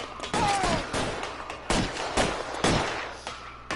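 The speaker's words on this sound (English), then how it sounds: "I'll lay down some suppressing fire." Bursts of gunfire crack out in the video game LA Noire, several sharp, loud volleys spaced irregularly across a few seconds, with a faint game voice in between.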